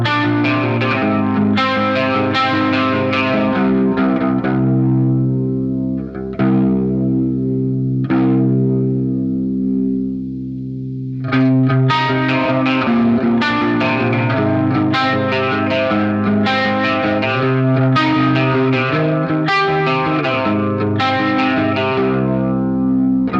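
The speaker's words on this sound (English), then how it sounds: "we'll try out the Ampeg liquefier instead" Electric guitar through the Ampeg Liquifier chorus on a Line 6 HX One, playing sustained distorted chords with a wobbling, shimmering modulation and some reverb, loud and close, with a brief dip in the middle before strumming resumes.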